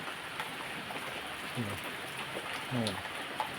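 Afternoon rain falls steadily in a rural setting beside a large garden, making a soft, even hiss close by, with a couple of brief voice-like sounds in the middle.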